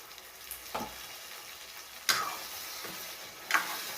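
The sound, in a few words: drumstick pods (shevga) being sautéed in a pan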